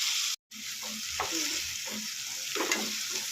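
Small-cut chopped tomatoes fry in a pan with a steady close sizzle. A short dropout near the start breaks it, and faint scattered clinks follow.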